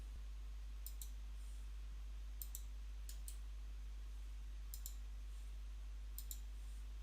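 Sparse, faint mouse clicks in small groups while working in ArchiCAD software, spaced irregularly over a quiet hum, with no talking.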